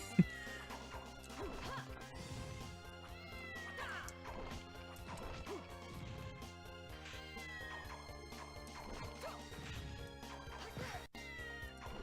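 Cat meows and yowls amid crashing hits and layered game music in Castlevania: Order of Ecclesia, the feline cries recurring over a dense, steady soundtrack.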